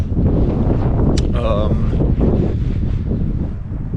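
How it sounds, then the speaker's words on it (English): Strong wind buffets the microphone in a constant loud roar, with a faint voice briefly audible under the gusts. "it is cold and it is really, really windy"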